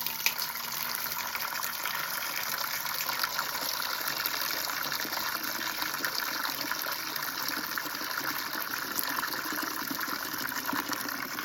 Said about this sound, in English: So I put some water in it.